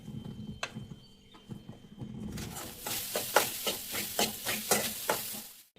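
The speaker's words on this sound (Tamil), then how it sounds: "அதுக்கு கொஞ்சம் நெய் ஊற்றிட்டு செதறி வச்சிருக்க தேங்காய் எடுத்து கொஞ்சம் போட்டுக்கலாம்" Grated coconut stirred in ghee for a sweet filling, a soft steady sizzle rising halfway through with repeated scraping strokes of a spoon in the pan, close and moderately loud, no talking.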